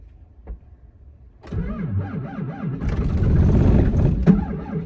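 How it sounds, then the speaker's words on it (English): A truck engine struggles to start in extreme cold at fifteen below zero during a North Dakota blizzard: a quiet tick, then loud, close cranking that catches and rises into a rough, revving idle. "It was so cold that the truck had a hard time starting up."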